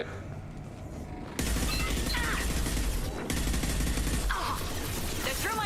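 Gunfire in the Mass Effect 2 video game, rapid bursts of automatic weapon fire and impacts over a dense, noisy combat backdrop, moderately loud.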